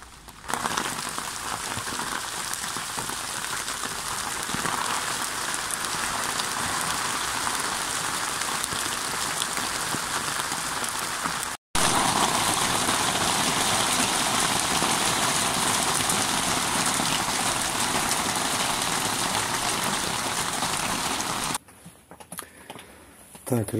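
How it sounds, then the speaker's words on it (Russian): Heavy rain pours outside a dugout shelter, a loud, steady rushing hiss that drops out for an instant midway, then carries on before thinning to a quieter patter at the end. "Но там начался дождь на улице."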